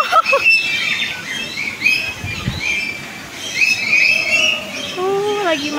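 Birds at Taman Safari Bogor chirp and call in a series of bright, sweeping notes, fairly close, while people talk over and between the calls.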